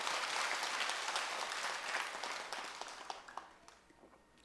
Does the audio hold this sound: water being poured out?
no